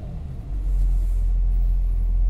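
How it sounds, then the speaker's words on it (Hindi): A Mercedes ML 350 CDI 4Matic diesel engine idles nearby, a steady low rumble that swells slightly after the first half second and then holds constant, with no talking. "आप देख सकते हैं हमारी गाड़ी स्टार्ट है।"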